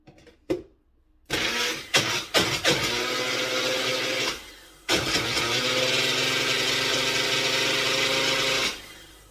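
Loud whirring coffee grinder motor starts grinding beans, stutters in short bursts, then runs steadily with a harsh grinding roar before cutting off at the end.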